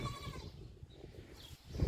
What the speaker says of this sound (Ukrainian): кози пасуться